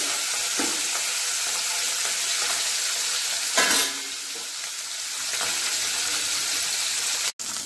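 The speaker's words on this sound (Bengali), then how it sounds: "এই মাছটা একটু কড়া ভাজতে হয়। মাছগুলো ভেজে নিচ্ছি।" Koi fish fry crisp in hot oil, giving a steady, close, loud sizzle throughout with a brief burst of stirring or clatter partway through.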